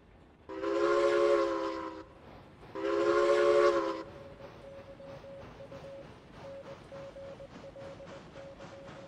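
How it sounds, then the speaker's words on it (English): Steam locomotive whistle in the Railroads Online video game, two loud sustained chime blasts followed by a quieter lingering tone over the rhythmic chuffing of the engine. "Let's hear some whistle."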